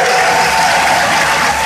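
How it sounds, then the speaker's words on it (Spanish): A crowd celebrating a Copa LEB Plata basketball championship applauds loudly and continuously, a dense roar of clapping with crowd noise filling the whole moment. "¡Aplausos ahora!"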